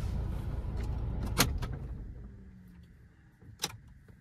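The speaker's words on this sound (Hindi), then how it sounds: "अभी गाड़ी स्टार्ट है बट मैं अपनी गाड़ी बंद करूँगा यहाँ पर" A car being switched off and locked, starting with a low engine rumble that fades, then two sharp clicks or beeps a couple of seconds apart, heard alone without talk.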